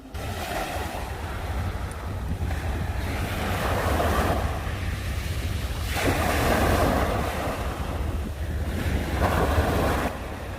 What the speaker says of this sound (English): the sound of the nature, the sound of the wave is more pleasant than any other music